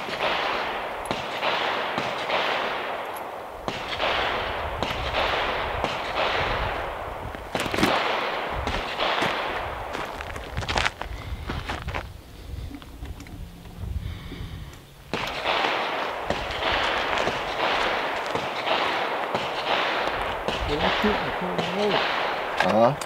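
Gunshots ring out at an outdoor shooting range in a long run of loud, rapid bangs. They pause for a few quiet seconds in the middle, then resume just as densely.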